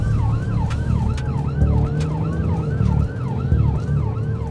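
An ambulance siren wails in a steady repeating rise-and-fall pattern, loud and close, over the rumble of a vehicle engine.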